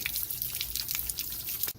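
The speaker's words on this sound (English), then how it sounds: "So I want to keep flushing this until I get all this clear, and then I have no more sediment coming out of the tank." Water and loose sediment flushing out of an RV water heater tank, a steady close splashing gush with bright dripping, trickling spatters running the whole time.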